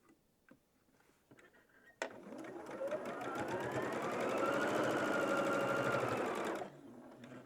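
A sewing machine runs steadily for about four and a half seconds while quilt strips are stitched, starting abruptly, holding a continuous whirring hum with a rapid ticking needle rhythm, then stopping sharply, with quieter handling sounds before and after.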